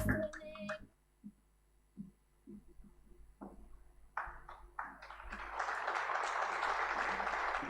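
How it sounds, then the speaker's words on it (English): Audience applause at the International School of Tanganyika's Class of 2024 graduation ceremony: a few scattered claps and knocks at first, then a broad wash of clapping that swells and holds steady toward the end. "please have a round of applause for Ms."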